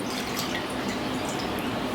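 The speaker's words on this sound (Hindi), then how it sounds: "यहाँ पे मैंने एक कढ़ाई ली है, उसमें हम 1 कप पानी डालेंगे।" A cup of water poured into a kadhai in a home kitchen, a steady splashing, trickling stream that stays even and close throughout, with no talk.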